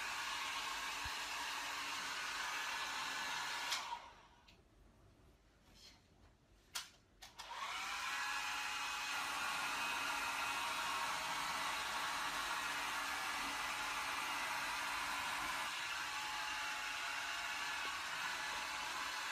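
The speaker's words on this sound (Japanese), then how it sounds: "同室の方がドライヤーしてます。" Hair dryer running in the same room, a steady loud whirring roar that cuts out for a few seconds, then starts again and runs on continuously.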